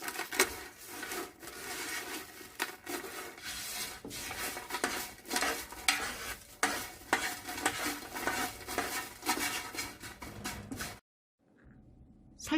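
Dried chives dry-roasted in a pan for chive tea, continuous rough rustling and scraping as the leaves are stirred and rubbed against the pan, up close, stopping abruptly near the end.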